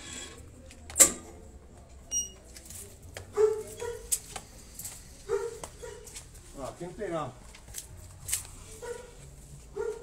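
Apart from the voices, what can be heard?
dog whimpering and barking, a female dog left alone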